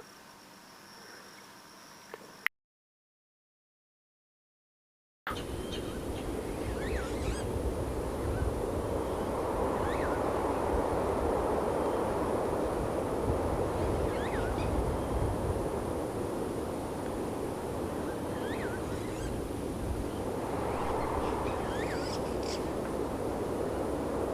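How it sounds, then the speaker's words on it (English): Constant crickets chirp in a calm outdoor setting, with occasional distant bird calls and honks rising above the insect drone after a brief silent gap. "The ambience is very calm. Birds, crickets."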